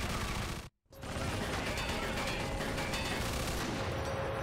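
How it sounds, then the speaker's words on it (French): Continuous heavy machine gun fire from a tank-mounted gun in the video game Mafia 2, loud and sustained, breaking off briefly for a moment before resuming as a dense, relentless burst. "Je sais pas comment lâcher la mitrailleuse."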